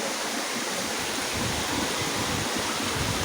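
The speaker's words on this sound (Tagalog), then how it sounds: "Mas malakas yung tubig dito, Gar." Rushing water at Lansones waterfall, a loud, dense, continuous roar of falling water heard up close with no pauses.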